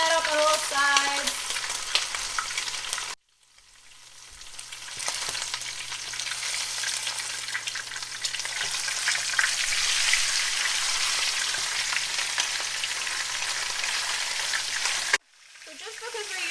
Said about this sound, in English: Alright, so we're going to brown that up on all sides.